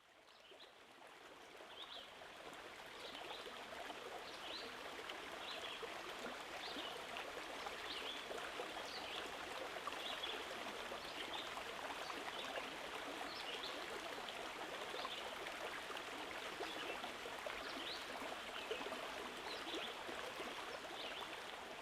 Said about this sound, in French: vous entendez le ruissellement d'une cascade